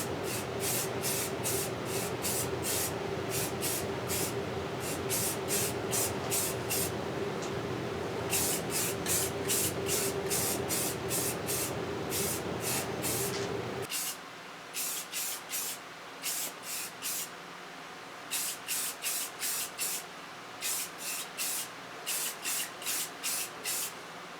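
An aerosol can sprays a second coat of OD green paint onto a blaster in close, loud hissing bursts with a steady rhythm of short pauses. A constant background drone stops partway through, and the spraying continues.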